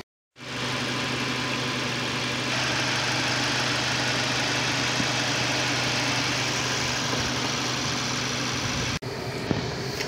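A 2016 Mazda 3 with a 2.0-litre four-cylinder Skyactiv engine runs at a steady idle, a loud, even hum with a low drone, heard up close and alone with no talk. A brief shift in tone comes near the end.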